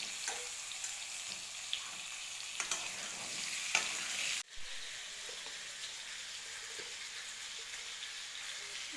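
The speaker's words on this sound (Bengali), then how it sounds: "বন্ধুরা, আগে আমি আলুটা ভেজে নিচ্ছি।" Potatoes fry in hot oil with a continuous close sizzle, punctuated by light clinks and scrapes of stirring and a brief dip in the hiss midway.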